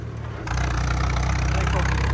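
Modified four-cylinder tractor engine revving, a low pulsing throb that rises and then holds at a steady higher pitch, close and loud, under a voice.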